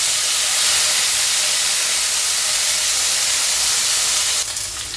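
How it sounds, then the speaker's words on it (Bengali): Potato and pointed gourd pieces fry in hot oil with a loud, even, unbroken hiss close by, and no talking. "আলু পটলটাকে আমি ভালো করে ভাজা করে নেবো"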